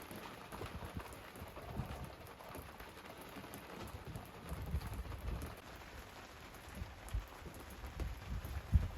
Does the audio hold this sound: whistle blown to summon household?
no